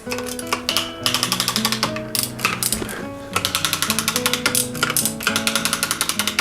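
Freshly lubricated gear shifter on a Gary Fisher bicycle, producing rapid crisp ratcheting clicks in quick bursts, close to the microphone, with mechanical rattling between the runs.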